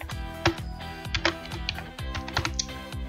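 Fingers tap a computer keyboard in a quick, uneven run of clicky keystrokes, close and fairly quiet, with a few louder strikes standing out.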